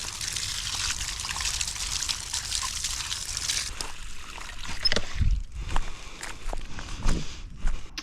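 A hot go-kart part is dunked into an outdoor water puddle: a loud, steady hissing fizz lasts about four seconds, then gives way to scattered splashy thumps and footstep-like knocks nearby.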